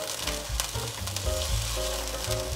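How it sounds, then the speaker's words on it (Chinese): Tofu is being stir-fried in a pan, giving a loud, continuous sizzle with brief scraping and stirring sounds mixed in. "炒豆腐的时候我都习惯尽量从锅边铲下去，这样子豆腐比较不容易破掉"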